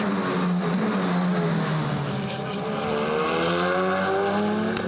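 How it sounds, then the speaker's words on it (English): A pack of 2-litre turbocharged GTC touring race cars at Zwartkops Raceway roars past continuously, loud engine notes rising and falling over one another with shifting pitch, with no voices. "a field of 2-litre turbo-powered racing cars chase each other around"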